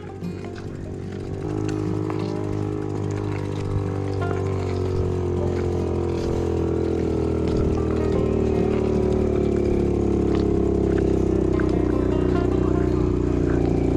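Motorcycles climb a steep uphill road, a low engine drone steadily building and straining over the clip, with a rising revving tone and continuous rumble at moderate distance.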